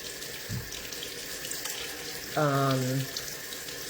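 Tap water runs briefly over a deer heart being rinsed, a steady close rush lasting under a second after a faint bump.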